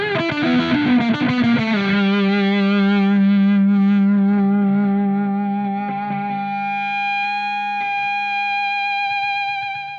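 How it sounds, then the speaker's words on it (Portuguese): Brazilian-made fuzz guitar pedal pushed into heavy saturation, its compression squeezing the notes. A few picked notes ring out, then one thick, sustained note hangs on for several seconds and slowly decays, loud and with no talking. "Se você obviamente aumentar mais, ele vai saturar a um ponto que realmente a compressão do fuzz já começa a morder as notas"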